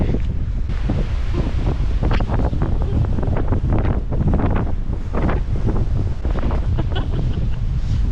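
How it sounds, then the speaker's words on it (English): Strong wind buffets the microphone in constant low rumbling gusts, loud and close, with no talking over it, in snowy mountain country in New South Wales, Australia. "It's so very windy."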